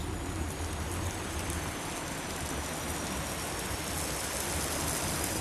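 Heavy, steady rain pours down in a dense, continuous hiss with no breaks or voices.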